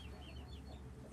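Soft, faint clucking from a few bantam Cochin chickens, low murmuring calls close by in a quiet setting, with no one talking.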